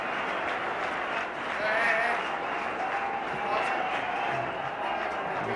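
Cricket crowd at the 1999 India vs Pakistan Test match in Delhi applauding from a distance, a steady wash of clapping and murmur that swells briefly, with a commentator talking over it.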